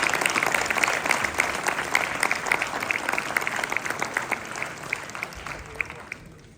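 Audience at a 2024 New Year's wishes ceremony breaks into sustained applause, dense steady clapping filling the room before gradually thinning and fading at the end.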